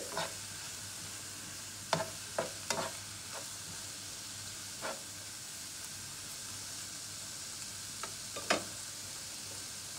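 Onion frying in a pan and being stirred, a steady soft sizzle throughout with occasional light scrapes and taps of the spoon against the pan, fairly faint.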